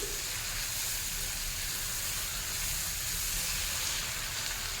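Chicken fries in hot oil with garlic and butter, a dense continuous sizzle and hiss that stays loud and even throughout, close up with no voices.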